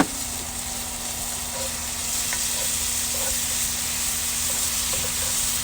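Dijon mustard being stirred into a sauce in a cast iron pan on a grill, under a steady, moderate sizzle with a few light utensil taps against the iron.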